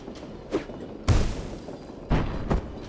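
A spore bomb goes off in Tactical Breach Wizards with a heavy booming blast and a shattering crack, set among several lighter thuds and impacts spread across a few seconds.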